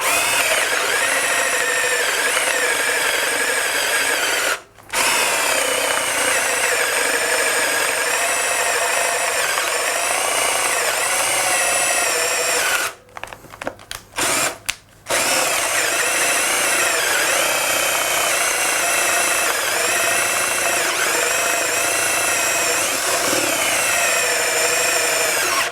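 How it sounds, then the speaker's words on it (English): A power drill pushes a 28–30 mm Fastener bit through wood on a Triton Workcentre. The loud, continuous whine holds steady for long stretches and is broken by a few brief pauses. "It's a great way of drilling nice, quick, big, large holes straight in to wood."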